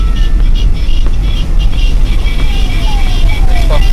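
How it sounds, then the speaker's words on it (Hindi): Loud, steady road noise from a blue Kolkata city bus moving through traffic, with a continuous engine drone and whirring and passing vehicles mixed in. "फ्रंट व्यू ये देखिए, एक और बस ओवरटेक करते हुए। This is a typical blue बस ऑफ कैलकाटा।"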